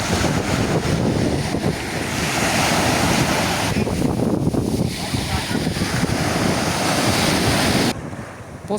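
Sea waves wash steadily onto a beach in Halkidiki, Greece, a constant broadband roar with heavy wind buffeting the microphone, loud and close, easing slightly near the end.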